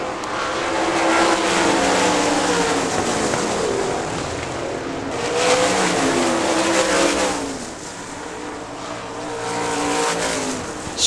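Race cars roar around a track during a racing event, engine noise swelling and fading in repeated waves as cars pass close by, loud and continuous with no speech over it.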